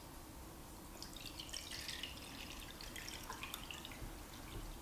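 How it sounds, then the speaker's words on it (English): Water pours into an ikebana flower vase, a soft continuous trickle with light dripping and splashing, close and steady throughout with no voices. "I pour my water."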